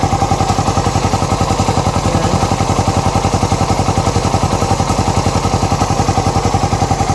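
A Raider 150 motorcycle engine fitted with a 68mm block idles steadily and close by, with a quick, even mechanical pulse and light clatter that hold constant throughout, with no voices over it.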